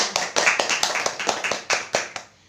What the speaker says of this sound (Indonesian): Bagus, tepuk tangan untuk Jetsa Kahilan.